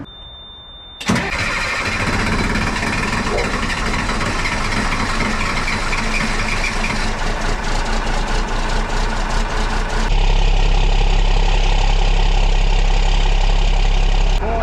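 A military surplus wrecker truck's engine cranks and catches after a quiet second, then settles into a loud, steady idle that deepens as it runs on to warm up, heard close.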